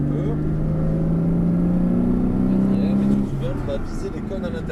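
A Porsche Cayman S running on a track, its engine holding a steady drone with a gradual pitch rise and then settling lower as it slows, close and continuous throughout.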